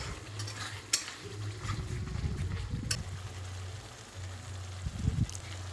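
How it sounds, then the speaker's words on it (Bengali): Spice paste with turmeric and chili powder sautéing in a pan makes a soft sizzle under repeated spoon scrapes and occasional sharp clinks against the pan, close and fairly quiet. "তারপর অল্প করে জল দিয়ে ভালোভাবে আরও কিছুক্ষণ মশলাটাকে কষিয়ে নেব।"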